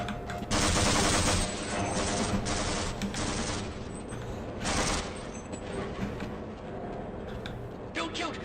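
Dense automatic gunfire rattles through a Half-Life firefight, long loud bursts of rapid shots layered over one another with brief lulls, while a voice speaks faintly beneath the shooting.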